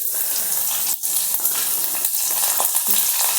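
Crushed garlic hits hot oil for a tempering and sizzles in a loud, steady, hissing fry that stays close and continuous for the whole stretch, with faint stirring under it and no talking.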